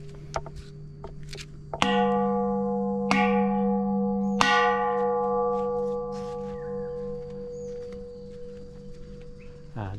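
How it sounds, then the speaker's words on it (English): Small temple bell at Wat Doi Kong Mu in Mae Hong Son, struck with a stick three times in slow succession, each bright ringing tone decaying long and overlapping the next, heard close over a quiet outdoor background. "And the last one, little bell"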